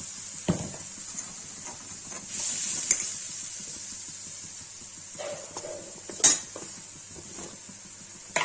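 Tomatoes go into potatoes frying in a pan for aloo paneer sabzi, bringing a sizzling hiss with intermittent clanks and scrapes of a utensil against the pan, close by.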